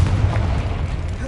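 A Confringo spell explodes in the video game Hogwarts Legacy, a loud close boom with a deep rumbling body that fades slowly over about a second.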